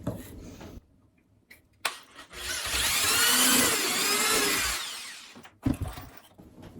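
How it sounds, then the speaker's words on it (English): A drill pre-drills a screw hole in the wood of an adjustable spice rack, one sustained whirring burst of about two and a half seconds framed by a few sharp clicks and handling knocks, close and with no talking. "we can go ahead and pre-drill for the second screw"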